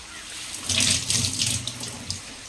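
Tap water runs steadily into a sink while chicken liver is washed, a close, continuous splashing stream with no talk.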